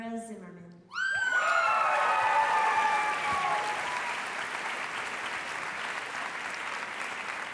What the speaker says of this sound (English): One more round of applause for the FAC class of 2022